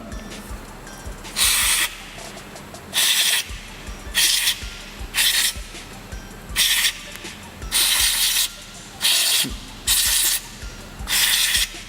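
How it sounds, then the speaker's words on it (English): GLOSIL electrical contact cleaner sprays onto motorcycle terminals in about eight short, close hissing bursts, each roughly half a second long, separated by brief quiet gaps with faint handling sounds. "I'll now be using the GLOSIL electrical contact cleaner."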